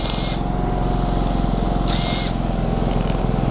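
A Generac GP3300i portable inverter generator (model G0071532) that won't shut off runs with a steady, close engine drone, while two short hissing bursts sound over it.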